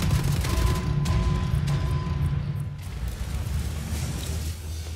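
Gunfire in the video game Wolfenstein: The New Order, a dense, continuous barrage of shots with heavy low rumble and mechanical clatter running steadily for the full stretch.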